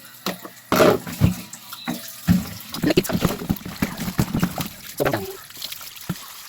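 Tap water splashes and gurgles as jackfruit is washed by hand, uneven bursts of splashing and handling close by, with a person talking over it in places.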